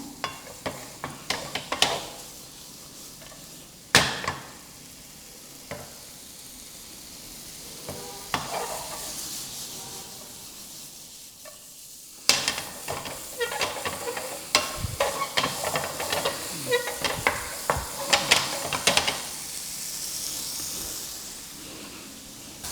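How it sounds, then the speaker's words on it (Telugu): Paneer cubes fry for paneer 65 in a hot pan, a continuous oily sizzle and hiss punctuated by scraping stirs and occasional sharp clacks of a utensil against the pan, close and fairly loud. "ఇలా పన్నీర్ ఫ్రై చేసుకున్నాం"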